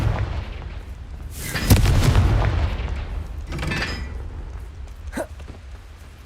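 Confringo fire spells bursting in the Hogwarts Legacy video game: a sharp explosive blast near the two-second mark, then further crackling fiery bursts and a short zap, over steady game ambience.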